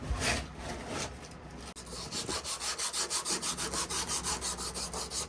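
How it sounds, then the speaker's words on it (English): A piece of wood being sanded by hand with sandpaper, close and quiet, with a short rub at the start, then a run of about fifteen quick, even back-and-forth strokes. "And then I just get a wee bit of sandpaper."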